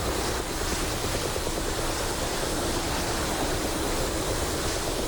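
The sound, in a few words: F-15 jet taking off in DCS video game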